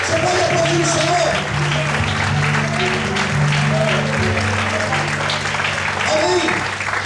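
A church congregation applauds together in sustained, steady clapping that fills the room, with sustained low tones underneath, most likely from instruments or voices, throughout.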